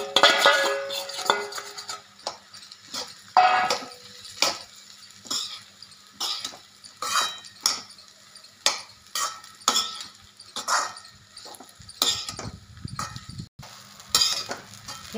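Sabudana khichdi with peanuts and potatoes being sautéed in a pan over medium gas, with repeated sharp scrapes and clinks of a spatula against the pan, irregular and close, with brief rustles between strokes.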